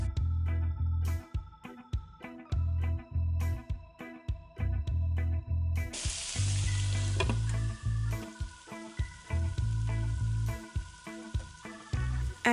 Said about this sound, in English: go ahead and add your franks and allow it to cook